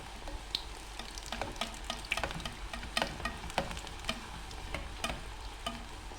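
Oil sizzling in a pan while Kabyle lkhechkhach fries, a steady crackling hiss broken by frequent sharp pops and spits, close and fairly quiet, with no voices.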